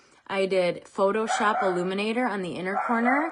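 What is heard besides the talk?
dog barking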